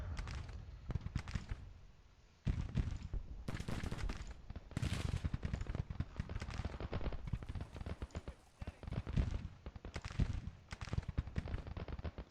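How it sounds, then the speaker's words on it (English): Rapid crackling volleys of musket skirmisher fire and booming artillery from a Grand Tactician Civil War battle, with 6-pound field guns involved, sounding as dense, irregular bursts at moderate distance that keep up without a break. "they've been worn down by artillery fire and my skirmisher"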